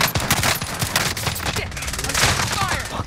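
Rapid bursts of automatic gunfire from a first-person shooter video game, dense and continuous, with overlapping shots, and a player's voice speaking over the firefight.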